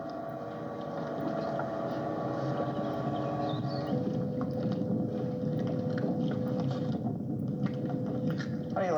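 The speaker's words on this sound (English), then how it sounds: "How do you like your boat here, Kaz?" A motorboat made by Glassway Inc. of Lake Mills runs on a lake during a fishing trip, its engine a steady close drone with a tonal hum that shifts pitch partway through, punctuated by faint clicks.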